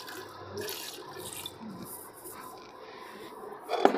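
Water is poured into mutton cooking in a pot, a soft, faint splashing and trickling lasting a few seconds, ending with a brief louder clatter.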